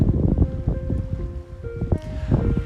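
Gusty wind on a beach beside a lighthouse on Nantucket, rumbling and buffeting the microphone steadily with faint surf in the background and no talk.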